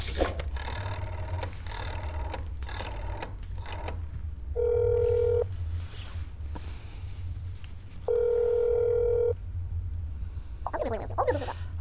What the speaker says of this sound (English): Let me just, make a phone call here to your apartment